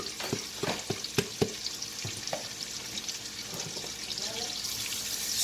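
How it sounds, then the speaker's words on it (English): Garlic and onion sauteing in oil: a few sharp stirring knocks early on, then a soft steady sizzle with faint clatter, close by and without speech. "Saute your onion."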